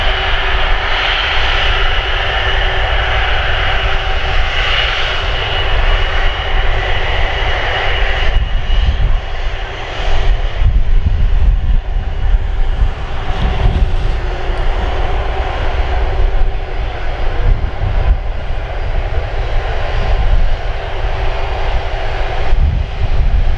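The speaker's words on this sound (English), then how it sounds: "Just listen out for the wishily whooshy sound as she fires up ready for takeoff." Voyager A330 jet engines spooling up for takeoff at RAF Brize Norton, a loud, continuous roar with a whooshing, airy edge, close and sustained throughout.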